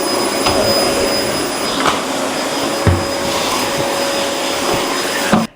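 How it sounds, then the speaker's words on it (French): A household vacuum cleaner runs steadily throughout in a French home during cleaning, a loud continuous whine with faint knocks as the nozzle moves, close by and alone until it cuts off at the end. "je vais passer l'aspirateur"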